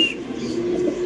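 Soft, low cooing from pigeons at a pigeon seller's, including a black Spanish male, heard close with a faint background hum.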